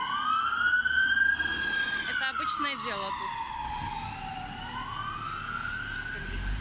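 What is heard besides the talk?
ambulance and police sirens on a London street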